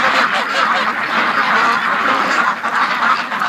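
A flock of ducks quacks continuously at the end of the day, a dense, loud chorus of overlapping calls close by with no pauses.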